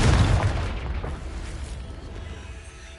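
A Confringo fire spell explodes in a video game: a loud, deep boom hits at once, then fades into a rumbling roar over a few seconds. No voices are heard.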